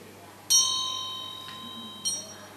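A monk strikes a small meditation bell twice during a mindfulness session, each strike a clear bright ring with a long, slowly fading shimmer, the second strike about one and a half seconds after the first, in a quiet room.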